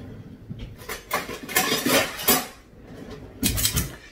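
Ravioli filling scooped with a portion scoop, a few light metallic clinks and scrapes against a bowl in short bursts, close and fairly quiet with no talking.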